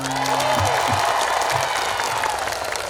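A large outdoor crowd of local residents in Indramayu bursts into dense, sustained applause, loud and close, with a brief voice fading under the clapping at the start.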